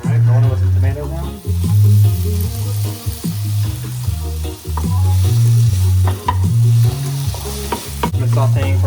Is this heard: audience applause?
no